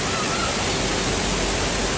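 Manuaba waterfall in Tegallalang, Gianyar, Bali, spilling into a shallow, knee-deep pool: a steady, close, continuous rushing roar of falling water with no pauses.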